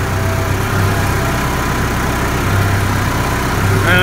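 Case IH 85 series tractor engine idling, a steady low rumbling drone that holds even and close throughout with no talking.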